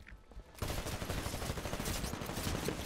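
A Titanfall automated turret fires continuously after a quiet opening, a dense, steady clatter of rapid shots lasting a few seconds at moderate distance.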